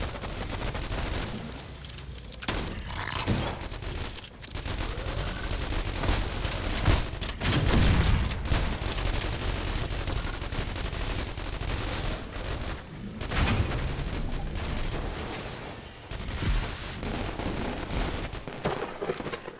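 Automated turrets in The Walking Trade fire continuously at zombies, producing loud, overlapping bursts of rapid gunfire with heavy booming shots that keep going for the whole stretch with only short lulls.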